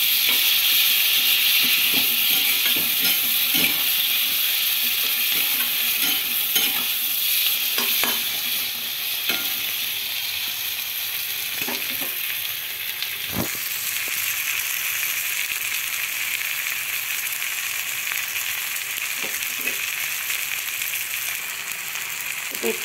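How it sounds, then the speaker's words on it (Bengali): Chilli frying and sizzling in hot oil for an egg curry, a steady bright hiss throughout with scattered clinks and scrapes of stirring, close and fairly loud, with no talk over it. "একটু ভাজা ভাজা হয়ে এসছে"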